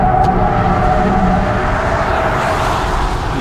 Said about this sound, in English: And now into the long left corner, we do some drifting.